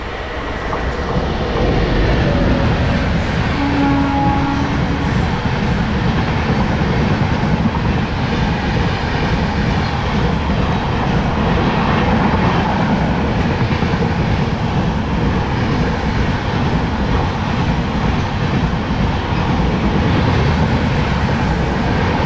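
A local passenger train from Haldibari to New Jalpaiguri rumbles loudly and continuously along the rails, with a dense steady roar and faint clatter of wheels on track throughout.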